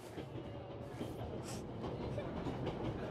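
A train in the video game 11-11 Memories Retold rolls steadily along its rails, a low continuous rumble with faint clicking of wheels, heard quietly and without talk.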